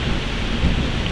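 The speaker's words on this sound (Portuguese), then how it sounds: "a chuva de fazenda grande" Heavy rain pours steadily over a large farm with thunder rumbling underneath, a dense, even wash of storm noise that stays loud and close throughout with no voices.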